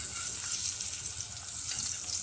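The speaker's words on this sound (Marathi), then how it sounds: "गॅस मंदच आहे असं मस्त दोन्ही बाजूनं तळून घ्यायचं" Spiced fish shallow-fries on a low gas flame, a steady bright sizzle and crackle of oil running evenly throughout with no voices.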